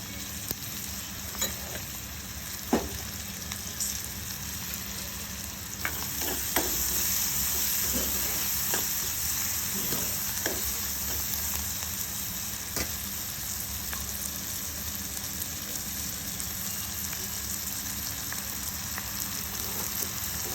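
Onions frying in a pan for Telangana pappu charu, a continuous close sizzle and crackle with scattered pops and occasional stirring clicks throughout, no voices.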